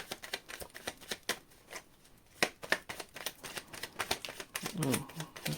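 Tarot cards being shuffled by hand give quick papery riffles and snaps in irregular bursts, close and moderately loud, with a short pause partway through.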